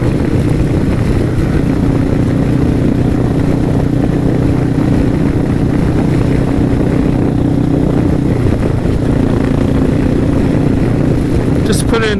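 Suzuki S40 motorcycle engine drones steadily while riding on Uvas Road, with a low thrumming note and a subtle gear shift into fifth, under wind rush.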